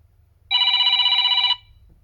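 A default timer ringtone preview plays on a Samsung Galaxy Z Fold5, a bright electronic ringing tone that sounds steadily for about a second, then stops cleanly, with a faint low hum before and after.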